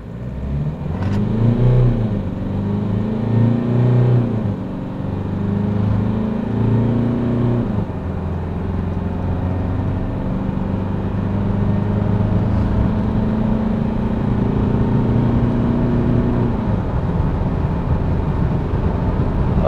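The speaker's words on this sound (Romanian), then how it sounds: "ați văzut la plecarea de pe loc, la plecarea inițială, că zgomotul brutal al motorului diesel" An Isuzu D-Max 1.9 diesel pickup with automatic gearbox and 4x4 accelerates hard from a standstill to 100 km/h, its engine droning steadily, rising in pitch through the gears, loud and close throughout with no talk.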